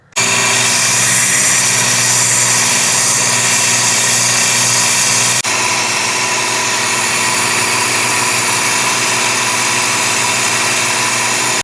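A belt grinder runs loud and steady, taking metal off a katana blade, a constant whirring drone with a slight shift in tone partway through and no speech.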